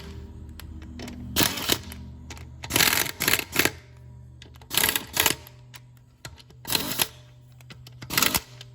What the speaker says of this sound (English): put it on the lowest setting on my gun and just cinch them down